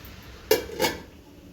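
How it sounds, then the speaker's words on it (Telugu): A metal lid is set onto a cooking pot of spinach curry, giving two quick clanks close by, the first sharper than the second, in an otherwise quiet kitchen. "మూత పెట్టుకోవాలి."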